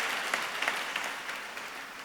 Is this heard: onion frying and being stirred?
no